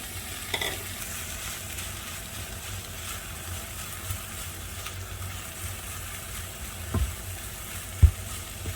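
Butter-fried sausage rice with about two bowls of cooked rice being stir-fried in a pan, a steady low sizzle with soft scraping and a couple of sharp utensil taps near the end.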